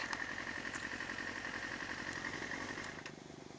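A motorcycle engine idles in a steady, faint, pulsing putter that carries a slight crackle, then it drops to a lower, quieter rumble near the end.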